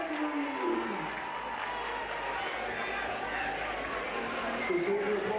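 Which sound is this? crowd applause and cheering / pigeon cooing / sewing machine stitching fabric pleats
crowd applause and cheering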